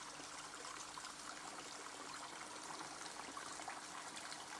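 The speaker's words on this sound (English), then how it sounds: "And everywhere you hear the trickle of water." Water trickles steadily throughout, a soft constant broadband wash with no speech, heard inside a structure near Cape Otway Lighthouse on the Bass Strait coast.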